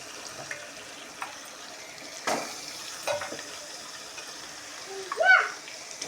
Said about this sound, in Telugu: కొంచెం అల్లం వెల్లుల్లి గోలినాక నేనైతే చికెన్ అయితే వేసుకుంటున్నా.